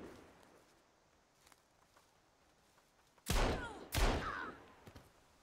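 Two loud gunshots boom in quick succession in the survival video game Sons of the Forest, each ringing out with a short tail after a quiet stretch of faint footsteps and ambience.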